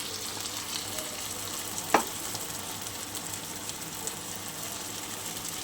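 Poppy seed paste, just added with salt and turmeric to an okra dish, fries in a pan with a soft, even sizzle and a faint stir noise, one brief clack near the start.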